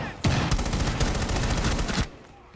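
Sustained rapid gunfire in Rainbow Six Siege, shots poured into a room in a loud continuous burst of nearly two seconds, cutting off sharply at the end.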